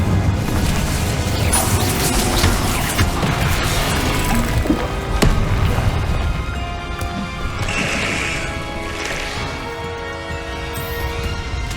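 Incendio fire spells in Hogwarts Legacy roar in a dense, continuous wash of crackling magical bursts and crashes, loud and sustained throughout with layered combat noise and no talk.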